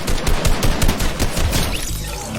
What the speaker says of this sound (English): missed 3 shots